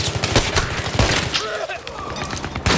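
An AK rifle fired in Battlefield 3, loud rapid bursts of gunfire with echoing shots in an ongoing firefight, a voice talking faintly beneath.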